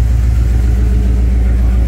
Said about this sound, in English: The car is running excellent.